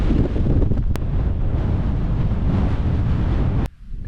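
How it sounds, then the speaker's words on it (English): Strong gale buffeting a microphone on an exposed hill summit in the Stretton hills, a loud continuous roar with a couple of sharp gust thumps, easing suddenly near the end. "it's blowing a gale, so I'm going to get out the wind"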